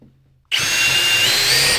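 Power drill countersinking and driving a decking screw into wood while building large DIY sawhorses; after a short quiet moment, a loud, steady high whine runs continuously to the end, with no talking.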